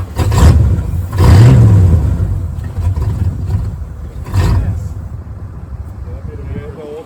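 A small engine runs roughly with the choke pulled, coughing in loud uneven bursts that surge and fade several times before dying down to a weak, struggling idle.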